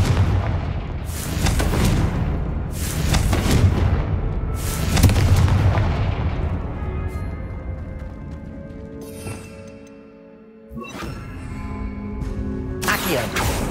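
Several booming blasts from the Confringo fire spell in Hogwarts Legacy, heavy explosions spaced a couple of seconds apart then fading into a quieter tail, followed by another late burst.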